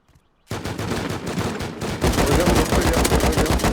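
Loud, rapid automatic gunfire in the video game Rust, starting abruptly after a brief silence and continuing as a dense stream of close shots that grows even louder partway through.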